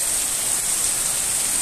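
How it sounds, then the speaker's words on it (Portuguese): Heavy early-morning rain pours down in Itapura, a dense, steady hiss heard from inside a house with no break and no voices. "Chuva aqui em Itapura hoje. Muita chuva mesmo"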